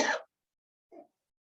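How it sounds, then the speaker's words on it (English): A single short cough from an instructor leading a deep-muscle workout class, a close, dry burst followed after a pause by a fainter second hack, otherwise silent. "Excuse me for coughing."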